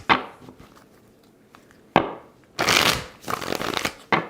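Tarot cards shuffled by hand in several quick riffling bursts, each a loud, close, papery flutter separated by brief pauses, with no talking.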